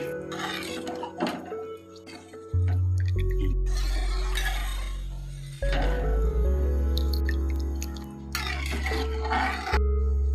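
Water poured into roasted masala in a pan while making upma, giving a loud burst of hissing and spluttering with thuds and bubbling that rises and falls over several seconds.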